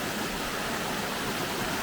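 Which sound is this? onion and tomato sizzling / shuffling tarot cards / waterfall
waterfall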